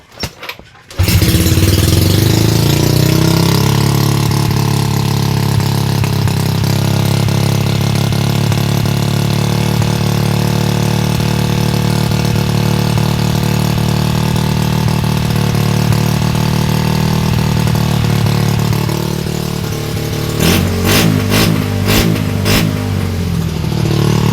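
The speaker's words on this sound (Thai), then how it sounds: "เดี๋ยวเราสตาร์ทให้ดูแล้วกันเนาะ เสียบกล่องนะครับ สตาร์ท มันเป็นสตาร์ทมือนะ แต่ว่าขอสตาร์ทเท้าแล้วกันเพราะว่าแบตเตอรี่ไม่พอ" Motorcycle with a weak battery, kick-started because the electric start won't do, with a sticky throttle from a misaligned TPS; the engine catches and idles loudly and steadily up close, then revs in a few quick blips near the end.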